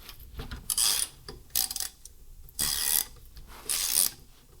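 A hand tap cuts threads for a tow hitch bolt on a BMW G650GS motorcycle hitch bar, giving four separate bursts of close metallic ratcheting and scraping, each about half a second long, with short quiet pauses in between.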